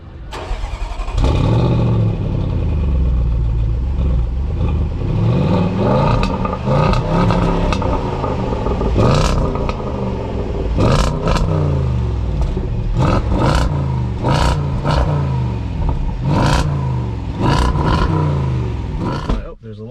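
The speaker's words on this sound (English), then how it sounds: "The cold start exhaust is phenomenal." A 2018 Range Rover Sport Autobiography engine roars and revs repeatedly on a cold start, sharp throttle blips rising and falling over a loud exhaust rumble, with people talking nearby.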